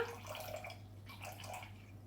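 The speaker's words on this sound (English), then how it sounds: "we're going to start off with 300 grams of water" Water is poured into a bowl sitting on kitchen scales for sourdough, a soft, quiet trickle and splash running steadily with gentle gurgles throughout, close by.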